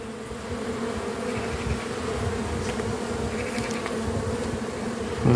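Honey bees hum densely at an open, crowded beehive, a steady close swarm buzz running throughout with no voices.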